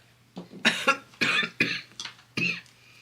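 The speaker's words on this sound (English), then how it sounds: "I will try not to cough too much with you guys." A run of harsh, wet coughs in quick bursts, close by, with short pauses between fits and no talking.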